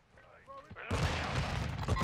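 A grenade explosion in Call of Duty: Modern Warfare II: a faint lead-in with a brief voice, then a sudden loud, broadband blast that rolls on with crackling, rumbling debris.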